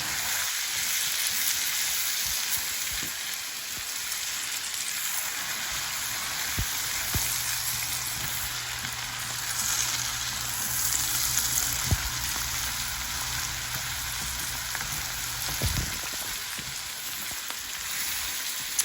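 Shredded cabbage and garlic fry in a pan for Southern fried cabbage, giving a steady, dense sizzle that crackles throughout, with a few soft clatters of a utensil and no talking.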